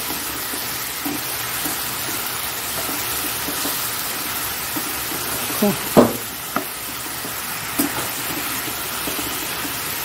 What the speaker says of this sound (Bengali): হলুদ টলুদটা দেওয়া আছে, ভালো করে এটা কষিয়ে নেব।